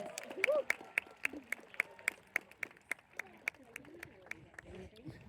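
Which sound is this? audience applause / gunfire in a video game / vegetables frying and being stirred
audience applause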